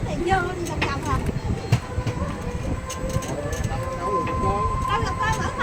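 Electric train ride around Dai Nam tourist park in Vietnam: a continuous rumbling, clattering ride noise with occasional clicks, while people talk close by over it.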